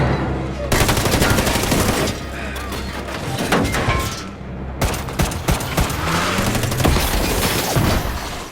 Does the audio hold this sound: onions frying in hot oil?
no